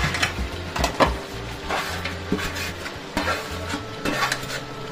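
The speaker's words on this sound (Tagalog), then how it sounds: "Lagay na natin yung ating repolyo" Clattering and scraping of a utensil stirring cabbage in a boiling pot, with occasional louder knocks and a low bubbling hum underneath, no voices.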